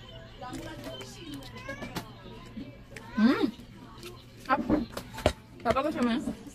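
A house cat meows a few times, short rising cries mixed in with ongoing conversational speech nearby.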